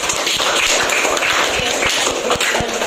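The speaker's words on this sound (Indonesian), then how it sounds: "tepuk tangan dulu untuk Samuel" Classroom applause for a student named Samuel during a school lesson: a small group of scattered, light hand claps, fairly close and steady, with faint room noise.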